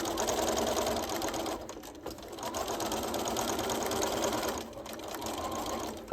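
A sewing machine stitches a lined bodice in a fast, steady mechanical whir, briefly pausing twice before running on at close range, with no talking.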